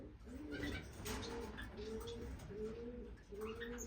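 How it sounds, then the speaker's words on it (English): Small birds in an indoor bird room of finches and lovebirds give soft, repeated cooing calls, a close, steady series of short phrases about every half second, with faint chirps over the top. "Oh, quiet lovebirds."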